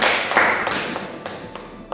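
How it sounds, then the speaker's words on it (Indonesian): A classroom of students gives a brief, scattered round of hand claps, a handful of separate claps over two seconds at moderate volume. "Beri tepuk tangan untuk"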